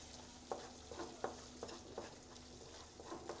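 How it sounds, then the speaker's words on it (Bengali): Spice paste for a Bengali dhaba-style egg curry sizzling as it is sautéed in a pan, with a steady fry hiss and rhythmic scrapes of a spatula stirring roughly every half second, close and alone. "মশলাটা কষানো হচ্ছে"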